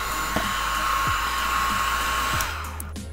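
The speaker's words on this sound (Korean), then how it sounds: "드라이기 따뜻한 바람으로 살짝 말려줄게요" A hair dryer blows warm air at low speed over freshly sprayed, styled permed hair, a steady close whoosh that holds for a few seconds and then eases off near the end.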